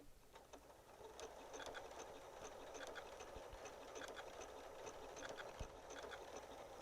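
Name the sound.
Janome sewing machine sewing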